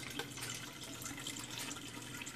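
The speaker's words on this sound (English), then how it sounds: "There's the siphon starting." A siphon begins drawing water from an aquarium converted to an aquaponics system, giving a soft, steady trickling and gurgling flow, faint and continuous.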